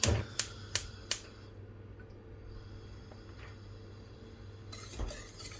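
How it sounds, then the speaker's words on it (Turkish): A few sharp clacks of a utensil against a pot open the sound, then a quiet hum and faint scraping follow as cream and sugar are stirred over the heat, with one more clatter near the end. "burayı güzelce karıştırarak pişireceğim"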